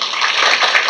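An audience applauding a chef at an evening event: dense, continuous clapping from many hands, close and loud.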